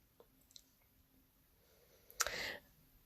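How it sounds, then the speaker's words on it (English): A short, sharp slicing swipe as a paper trimmer cuts through a sheet of Whisper White cardstock, quiet and close, preceded by a few faint clicks in an otherwise still room. "I'm cutting down a sheet of Whisper White cardstock at 8 inches"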